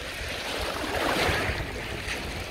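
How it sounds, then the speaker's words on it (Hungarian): Sea waves wash and roll in a continuous broadband rush, with wind buffeting the microphone, heard close and steady with no voices. "Jönnek ám itt a hullámok, te."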